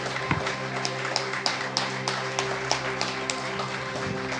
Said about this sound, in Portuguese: A sua melhor salva de palmas ao Senhor